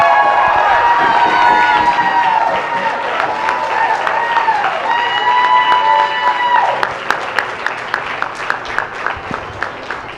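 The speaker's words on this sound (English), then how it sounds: "So I would really like it if everyone would stand up and give her a round of applause" Applause and cheering from a crowd at a 4-H and FFA beef showmanship and steer show at a county fair, a steady roar carrying sustained raised voices, breaking into more distinct claps toward the end.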